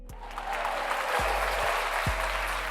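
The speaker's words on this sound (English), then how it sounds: "to give you a round of applause because I'm being corny today" A round of applause sounds as a steady, even wash of clapping for a few seconds, moderately loud, with a low hum and occasional thumps underneath.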